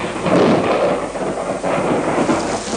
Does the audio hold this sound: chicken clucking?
no